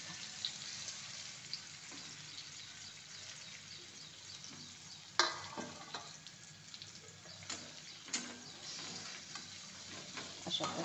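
Dal vadi frying in hot oil in a kadai gives a quiet, continuous sizzle, broken by occasional sharp clinks and scrapes of a utensil against the pan, close by with no talk.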